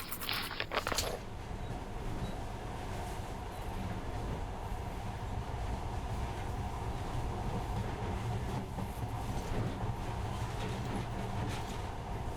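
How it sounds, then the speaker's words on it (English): A video game monorail train in Metro Last Light Redux rumbles along steadily with a continuous low drone and rattle, unbroken for the whole stretch, with a brief clatter at the start. "In the past, trains were ordinary things. But now, this monorail seems magic, doesn't it?"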